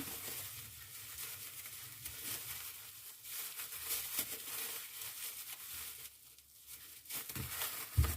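A plastic bag crinkling and rustling as it is tied shut around a wrapped slab of pork fat, with soft, irregular crackles that are close but quiet and no talking.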